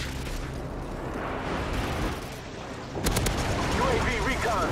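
Call of Duty 4: Modern Warfare Domination match on the Backlot map, with a steady roar of distant gunfire and explosions that swells louder after a few seconds; game voice callouts sound over the battle.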